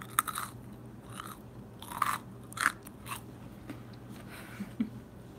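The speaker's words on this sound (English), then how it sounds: "That's a really crunchy piece. Like, listen, you can hear it." Crunchy chewing of a hard gluten-free Papa Johns pizza crust, with several sharp crackling bites spaced over a few seconds, close to the microphone.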